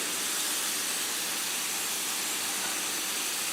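Artichokes sizzling in a hot pan for an artichoke and tuna omelette, a steady, dense hiss that holds evenly from start to finish with no voices over it.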